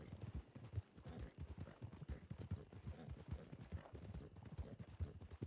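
Rhythmic hoof clip-clops from a horse in a video game, steady and fairly close, repeating throughout with no talking.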